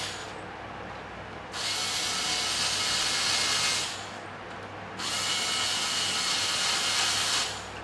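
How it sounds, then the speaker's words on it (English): Screws driven back into a Mexican-made Fender Stratocaster during a setup with a power driver, two sustained whirring bursts of about two and three seconds separated by a short pause, fairly close and with no talk. "I'm just going to put the screws back in."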